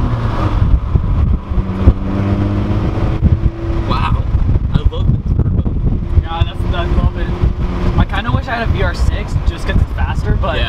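A turbocharged Mazda Miata engine pulls hard from inside the cabin, its roar rising and shifting through gears amid heavy wind buffeting, with people talking over it.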